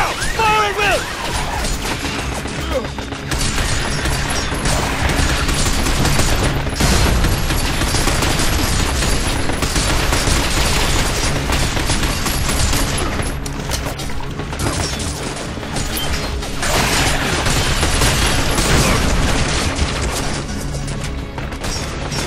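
Dense, sustained gunfire from a squad firing at will in the Xbox 360 shooter Binary Domain, loud and continuous with overlapping bursts and crashes for over twenty seconds.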